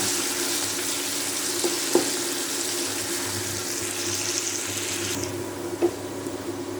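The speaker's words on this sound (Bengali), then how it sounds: "তেলটা আমার গরম হয়ে গেছে, এবার আমি দেব কুচনো পেঁয়াজগুলো। পেঁয়াজটাকে আমি খুব ভালোভাবে ভেজে তুলে নেব।" Chopped onions frying in hot oil, a steady hissing sizzle that rises briefly in the middle, with a few faint clinks of utensils against the pan over a low background hum.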